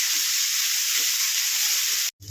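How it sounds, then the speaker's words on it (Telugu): Onions frying in a pan for munja peel curry, a loud continuous bright sizzle close up, cutting off abruptly near the end. "ఉల్లిపాయలు కొంచెం ఎక్కువనే వేసుకోవాలి కొద్దిగా గోల్డెన్ కలర్ వచ్చే వరకు వేసుకోవాలి"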